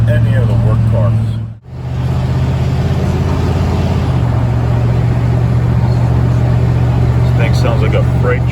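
A car with manual shifting accelerates hard in its last gear, its engine giving a steady, loud, deep drone that holds through most of the stretch after a brief cut near the start, with a voice faintly over it.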